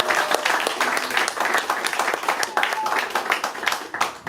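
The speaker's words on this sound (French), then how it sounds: "Je crois qu'ils méritent un grand applaudissement." Enthusiastic audience applause for the technicians at a closing evening of a cultural festival in Yaoundé; uneven, lively clapping from a crowd, with faint voices mixed in.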